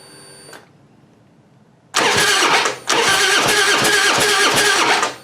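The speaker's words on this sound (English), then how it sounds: "let me crank and show you no spark" A Harley-Davidson Heritage Softail with no spark cranks without starting: two loud, close bursts of rhythmic starter churning, the first short and the second longer, after a quiet lead-in.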